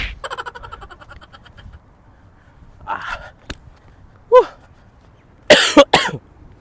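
A person with a cough and cold coughs in a few sharp, loud bursts near the end, after a quieter stretch of breathing and faint vocal sounds.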